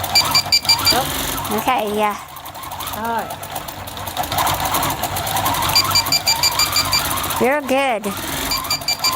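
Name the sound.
edge warning system beeping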